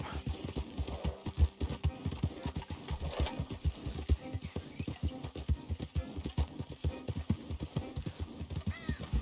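Galloping horse hooves while riding toward Valentine in the video game Red Dead Redemption, a fast steady clip-clop rhythm close and prominent, with faint background game ambience.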